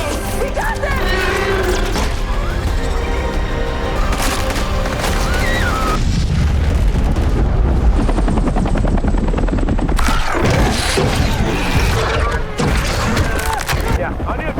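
A military helicopter roars loudly and continuously in a sci-fi alien war movie action scene, overlaid with booms, bursts of gunfire and shouted dialogue.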